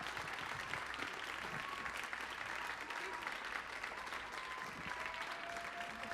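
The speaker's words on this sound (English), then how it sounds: "Let's give them a warm round of applause." Steady applause from a theater audience at a live music performance, dense and sustained throughout without letup.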